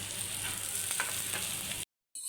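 Steady hiss and crackle of fish frying in a hot pan with little oil, fairly quiet, continuous for about two seconds before cutting out briefly, no voices.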